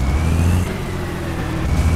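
Modded Freightliner FLC truck engine in Euro Truck Simulator 2, a steady low diesel rumble with a faint rising whine, running continuously and fairly loud, with no speech.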